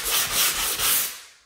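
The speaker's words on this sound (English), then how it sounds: "then I use a sanding block just to sand it smooth so there's no imperfections" A sanding block smooths filler compound over an old paint line on a wall, giving three or four quick, close scraping strokes in a brisk back-and-forth rhythm that fade out at the end.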